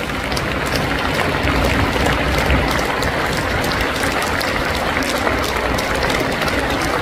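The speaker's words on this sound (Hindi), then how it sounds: "अरे सुरेश कैत साहब के लिए ताली नहीं बजेगी क्या जोरदार?" An audience at a Constitution Day gathering in Vigyan Bhawan applauds Suresh Kait with dense, steady clapping that holds at an even, fairly loud level for about seven seconds, with no voices standing out.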